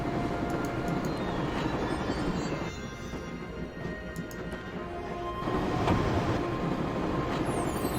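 A train rumbles continuously in the Broken Sword video game, a steady rolling clatter of wheels on track with faint squeals, loud and close with no talk.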